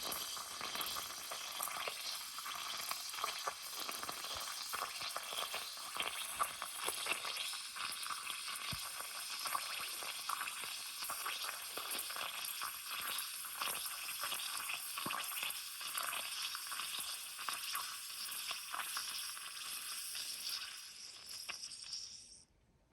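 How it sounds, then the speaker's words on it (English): A Zippo Typhoon match burns underwater with a steady, dense hiss of fizzing and bubbling that stays loud and even for about twenty seconds, then cuts off abruptly. "The match is unbelievable. It is burning underwater."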